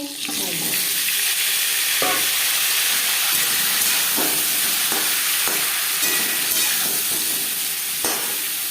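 Potato pieces fry in oil with panch phoron, a steady loud sizzle and hiss running throughout, with occasional sharp scrapes of stirring breaking through at intervals.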